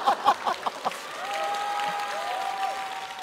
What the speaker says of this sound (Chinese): 当时和现场一样响起了雷鸣般的掌声。